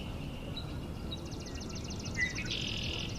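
Several swamp sparrows sing ringing, evenly pulsed trills at a moderate distance, one trill running into the next over a steady background hiss.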